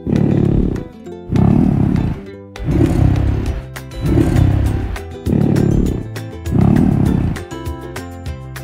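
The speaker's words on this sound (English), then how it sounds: "Bison." A bison calls in a series of deep, rumbling roar-like grunts, about six loud bursts in steady rhythm, close and alone without talk.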